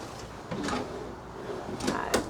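A kitchen drawer in a Class A gas motorhome slides and bumps shut a couple of times, each a short scraping thud against a quiet room.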